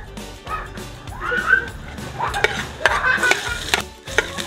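Garlic sautés in a little oil in a pan, a light sizzle under repeated scraping and tapping of a spatula stirring, with a few brief sharp knocks.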